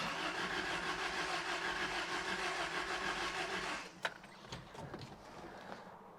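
A Toyota pickup truck engine cranks steadily on the starter for several seconds after a distributor adjustment, then cuts off, leaving a few sharp clicks and knocks alone.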